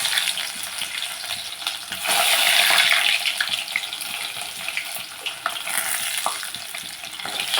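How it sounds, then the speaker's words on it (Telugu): Garlic frying in hot tempering oil for dal gives a loud, steady, broadband sizzle that swells briefly and then settles into a continuous hiss with faint stirring, close up and with no voices. "ఇప్పుడు వెల్లుల్లిపాయలు వేస్తున్నాను"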